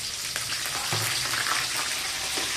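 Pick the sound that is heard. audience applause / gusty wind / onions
onions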